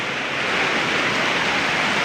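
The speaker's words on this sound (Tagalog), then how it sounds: "Ang ulan." Steady, dense rain hisses evenly throughout, a close and fairly loud wash of falling water with no voices over it.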